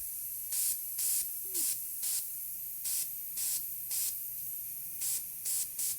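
A spray bottle mists water onto a painted goddess figure in short, sharp hissing bursts, about a dozen regular puffs spaced roughly half a second apart, close and alone.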